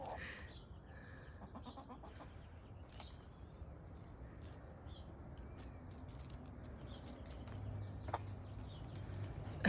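Chickens cluck and murmur outdoors in a vegetable garden, a few soft clucks early on, then a low steady hum of ambient noise with faint bird sounds, moderately distant.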